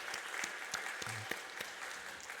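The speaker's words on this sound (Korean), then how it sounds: "감사의 박수로 크게 이분들을 위해서 축복하겠습니다" Brief, fairly quiet round of clapping from a church congregation, thanking members for their district group work, with scattered claps over a dense wash of hands and a short voice-like murmur in the middle.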